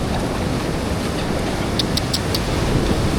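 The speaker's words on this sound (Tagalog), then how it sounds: "Hindi makaligo kasi ang lakas ng alon." Strong surf breaking on a beach flying double red flags: a continuous broad roar of waves with wind buffeting the microphone, loud and steady throughout, with no talk.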